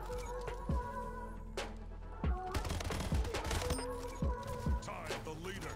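Rapid gunfire in the arena shooter Splitgate, shot through a portal, comes as repeated sharp bursts and single cracks spread across the moment, fairly close and crisp over quiet game ambience.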